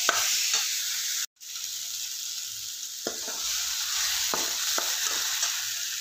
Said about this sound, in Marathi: चिकन आपल्याला एक मिनिट असे खमंग भाजून घ्यायचे आहे